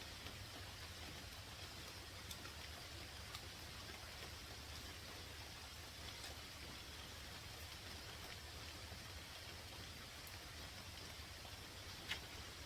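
Rain falls steadily outside as an even, soft hiss with occasional faint drop ticks. It is quiet and unbroken, with no voices.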